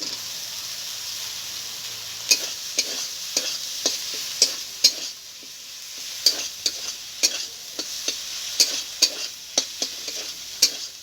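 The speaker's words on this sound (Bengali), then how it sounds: "ভেজে রাখা আলুটা দিয়ে আমি একটু নেড়ে নেবো" Fried potatoes are stirred into cooked spice paste in a pan, with a steady low sizzle under a series of sharp, regular spatula scrapes and taps against the metal, close and distinct, without speech.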